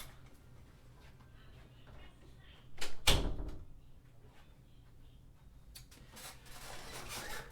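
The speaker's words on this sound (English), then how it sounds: "I'm going to shut the door behind me." A room door is shut, giving a single loud close thump near the middle amid quiet room noise, with faint rustling and handling sounds before and after.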